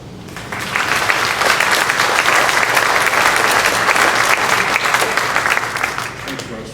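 Sustained applause from an audience at a Hall of Fame open discussion event in 2015, steady dense clapping that swells in and holds for several seconds, with some crowd voices mixed in.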